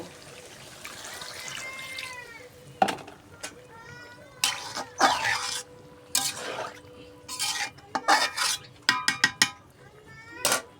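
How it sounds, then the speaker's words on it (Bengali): Water poured into a pot of braised beef cooking with sweet pumpkin, a trickling splash amid clinks of the pot and spoon, with a voice talking and sizzling in the background. "এখন মাংস পানি দিয়ে দিব"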